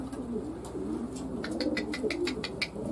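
Racing pigeons in a loft give soft, repeated coos over a steady low murmur, with a few brighter chirping calls rising through the middle of the stretch.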